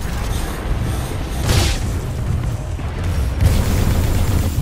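A Titan landing in the shooter game Titanfall 2, heavy rumbling booms with a loud crashing burst near the start and another impact later, over a constant low roar of battle noise, with no voices.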